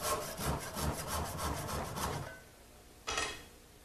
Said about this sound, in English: use a back saw to cut off the little scraps